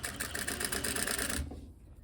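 A sewing machine running a straight stitch along a drapery hem, a fast, even mechanical chatter close by that stops abruptly after about a second and a half, leaving near silence.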